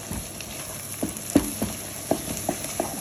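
Onions fry in a pan with a soft, continuous sizzle, broken by several distinct scraping knocks as they are stirred.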